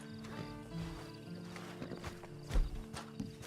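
A horse in the Red Dead Redemption 2 video game shuffles and clops its hooves with soft snorting, close and fairly quiet, over a low in-game ambient hum.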